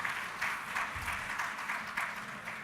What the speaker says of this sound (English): this is what always happens when I say that we don't have inspection. They applaud me.